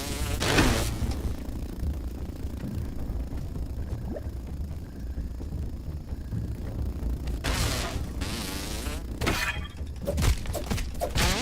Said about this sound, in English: I don't like the sound of that buzzing